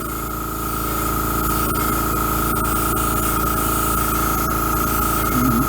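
An airbrush sprays black paint along the seam between two panels, giving a steady, continuous hiss with a constant hum underneath and no pause.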